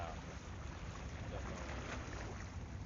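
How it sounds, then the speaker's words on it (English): Ocean water splashes and washes steadily while fishing off Miami, a dense, close wash of surf with some wind rumble across the microphone and no voices. "Just the water splashing."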